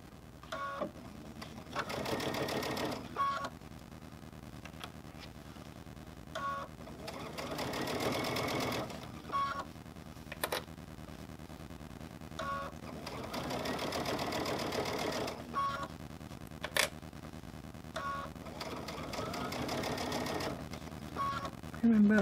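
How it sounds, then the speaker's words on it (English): A sewing machine stitches a honeycomb quilt in several bursts of rapid mechanical whirring, separated by pauses and soft clicks, close by, with a person talking between runs. "I'm going to go ahead and start sewing"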